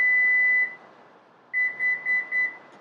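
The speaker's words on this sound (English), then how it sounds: "until you hear the 4 beeps" The power rear door of a Lexus NX sounds a long electronic beep while its opening height is set, then after a pause four short, evenly spaced beeps, clear and close with nothing else heard.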